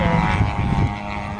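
Model airplane at an air show, a large aerobatic bomber model with a new Fiala 580 engine, droning steadily and loudly overhead while performing a typical aerobatic turn.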